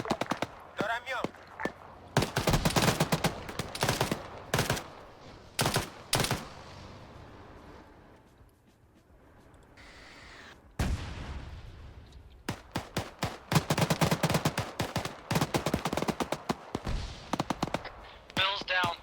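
Bursts of automatic and single-shot gunfire in the military video game Arma 3, sharp cracks in rapid strings separated by a quieter lull, with players talking over radio between volleys.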